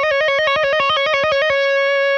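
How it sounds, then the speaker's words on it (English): A distorted electric guitar trills rapidly between two notes with hammer-ons and pull-offs, about a dozen quick, even alternations, loud and up close, then settling into a single sustained ringing note. "trills is basically where you take one note and maybe you hammer on the next note and pull off fast"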